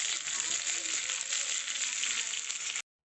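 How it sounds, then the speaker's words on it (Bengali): Taro sizzles steadily in a hot pan while being stirred for a hilsa fish curry, a loud continuous fry that cuts off abruptly near the end. "ভালো করে কচুটা একটু নেড়ে নিচ্ছি"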